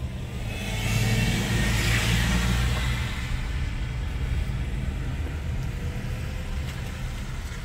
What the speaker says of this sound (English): let this black vehicle through here